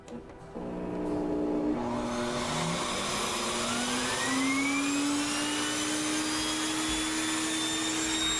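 A Sirena water-filter vacuum cleaner switching on and spinning its Turbo Brush, a loud motor whine rising in pitch as it spins up, then a steady close drone with no talking.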